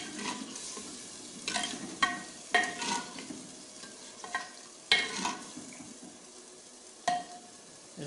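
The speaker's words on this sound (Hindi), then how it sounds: "और ये जो खड़े मसाले हमने रखे हुए थे ये भी अभी डाल देंगे इसके अंदर। और मिक्स करेंगे।" Beef liver masala with whole spices being stirred and fried in a pan, a steady sizzle broken by several sharp scraping stirs, close and with no talk.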